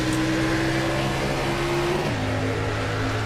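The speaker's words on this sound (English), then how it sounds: "Let's ride along with Rodney if you want to hear what a blown engine sounds like" A race car with a blown engine at Talladega Superspeedway, heard from onboard as a loud, steady mechanical drone that suddenly drops in pitch partway through, with no talk over it.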